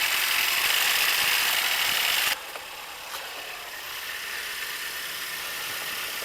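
A 2021 Mercedes-Benz C300 engine runs at idle with a steady broadband whir and faint mechanical ticking. The level drops slightly after a couple of seconds, then holds evenly, with no voices.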